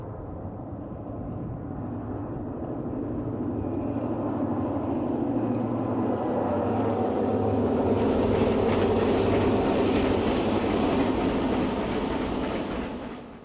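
A Union Pacific City of Los Angeles streamliner, running as a second section, rolls past a few miles east of Strawberry, Utah, a steady low rumble and rolling roar that swells as it nears and holds close, with no voices.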